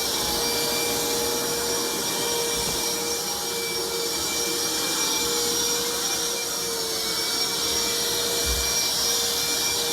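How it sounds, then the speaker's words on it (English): A vacuum cleaner sucks up water from a leaking sink, a loud, steady whining drone with a constant hum running unbroken throughout. "the tenant's trying to vacuum all this water up"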